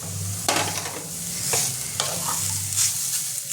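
Grated carrot fries in a pan for halwa under a steady sizzle, with a few sharp scrapes and knocks as it is stirred, close and alone without voices.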